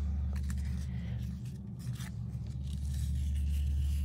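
Tractor pulling a cultivator past at a distance, a faint, steady low mechanical drone with light scraping and rustling noises nearby.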